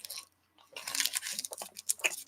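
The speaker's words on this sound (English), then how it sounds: "slurping on this cough drop because I need it" Close wet mouth noises of someone sucking and slurping on a cough drop, a short run of moist clicks and smacks after a brief pause, with no talk.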